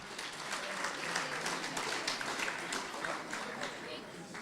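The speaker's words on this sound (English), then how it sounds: "Give him a round of applause." Steady applause from a gala dinner crowd, a continuous, even wash of many hands clapping heard from within the room, with voices faintly underneath throughout.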